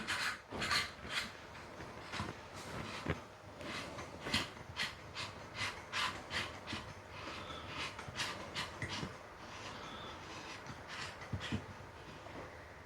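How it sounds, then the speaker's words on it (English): A Weefine adapter ring is screwed into the inside of an underwater camera housing, with close, quiet gritty rubbing and rasping twists in a repeated rhythm. "your adapter ring simply screws on into the inside."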